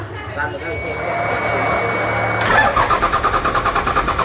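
A Daedong 6HE195 single-cylinder diesel engine cranks over and catches, then settles into a loud, rhythmic chugging as the throttle is opened slightly, heard close by.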